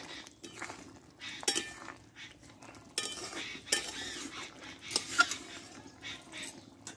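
A chickpea and potato curry gets stirred in a pot, a spoon scraping and clinking against the metal in irregular bursts, with a few sharper knocks at close range.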